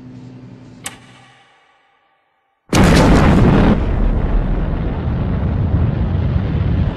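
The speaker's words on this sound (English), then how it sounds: "Stand by for blastoff." Rocket blastoff in a Thunderbirds puppet episode: a brief pop, a moment of near silence, then a sudden loud, sustained roaring rush of engine noise that continues steadily to the end.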